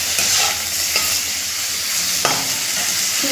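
Beans with ginger paste and salt being stirred in a hot pan, a steady sizzle with a few sharp utensil scrapes against the metal, close and alone.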